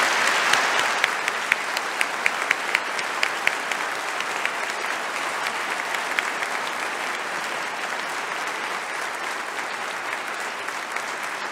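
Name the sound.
audience applause at an inauguration address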